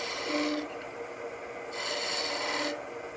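A skew chisel cuts a V into spinning wood on a lathe, two rasping, hissing scraping passes over a steady background, fairly quiet and close.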